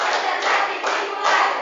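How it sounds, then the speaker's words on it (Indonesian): A standing school class in a science lesson claps a rhythmic concentration clap together, loud, even bursts of hand claps in three short phrases with no pause between them. "Oke, lagi tepuk konsentrasi."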